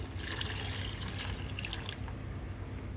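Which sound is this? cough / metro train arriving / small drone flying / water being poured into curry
water being poured into curry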